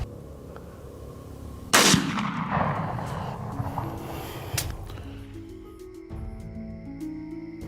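A single rifle shot fired while hunting a fox outdoors, one sharp loud crack followed by a long rolling echo that fades over several seconds, with no talk.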